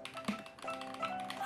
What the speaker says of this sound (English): typing sound test